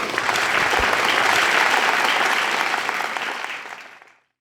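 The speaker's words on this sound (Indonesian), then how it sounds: "Kita beri tepuk tangan yang meriah." Loud, dense applause from a large audience at a ceremony honouring army personnel, steady and close, then tapering off quickly near the end.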